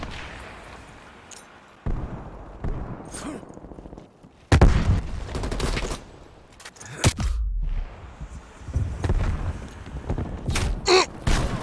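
Gunfire and explosive bursts from the video game Call of Duty: Black Ops Cold War, with sharp loud reports in scattered clusters and intermittent bursts across the clip, including submachine gun fire.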